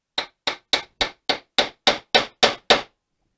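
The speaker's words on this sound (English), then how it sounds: "take a wooden part of a hammer and just lightly tap the top" Ten evenly spaced, sharp taps from a wooden hammer handle on a grease-filled Saginaw transmission part, a steady rhythm of light knocks close by, ending in silence.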